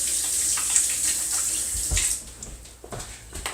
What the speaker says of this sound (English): you're going to wash off your hands